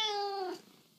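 A single cat meow, loud and close, with a rising harmonic cry that fades out after about half a second into a quiet room.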